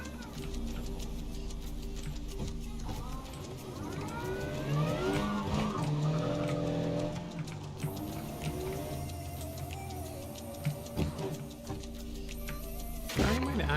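A Lancia car driven in the game Cyberpunk hums and revs steadily, engine tone rising and shifting, with scattered ticks and clicks and a voice talking intermittently over it.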